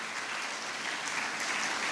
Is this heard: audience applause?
yes